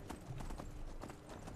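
Hooves of a horse clip-clopping at a steady gallop in the video game Skyrim, close and fairly loud, with rhythmic thuds running through the whole short stretch.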